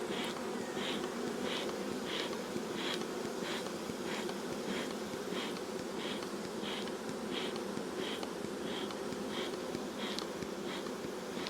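Honey bees buzz steadily from an open, very active hive box full of brood, a dense continuous drone close by with no talking.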